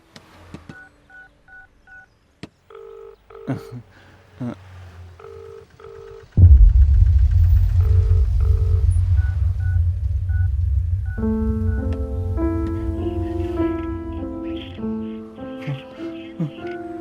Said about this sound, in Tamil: சரி, ஒரு வாட்டி கால் பண்ணி பார்ப்போம்.